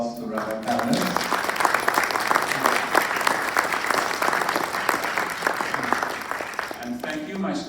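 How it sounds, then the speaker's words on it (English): Loud, sustained applause from an audience at the close of an evening lecture on world religions, a dense, even roar of clapping with a voice heard briefly at the very start and end. "Well, let's give a round of applause to Rabbi Panitz."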